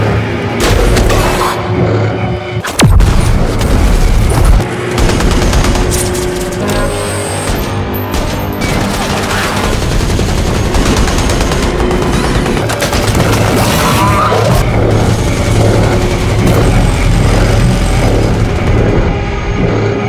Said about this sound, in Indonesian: saling menembak secara bergantian untuk menghentikan ancaman tersebut